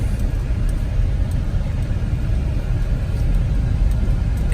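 Chevy Avalanche truck driving on the road after inner and outer tie rod replacement, a steady, loud low rumble of engine and road noise running continuously without a break.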